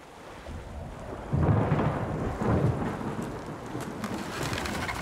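Thunderstorm at sea during a dangerous sailing departure: heavy rain hisses steadily throughout while deep rolling thunder swells in twice, loud and close, with no voices.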